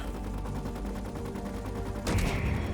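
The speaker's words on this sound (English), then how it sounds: "There go the turrets." Turrets firing in a video game, a rapid run of close, loud repeated shots that ends in a heavier blast or impact about two seconds in.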